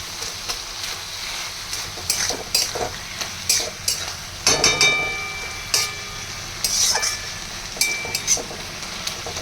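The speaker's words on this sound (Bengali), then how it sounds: "আর একটু পরিমাণ মতো নুন দিয়ে দেবো আরও একবার নেড়ে ছেড়ে" Banana flower curry is stirred in a pan, a spoon scraping and clinking against the metal in irregular strokes over a soft, steady sizzle, with no talking.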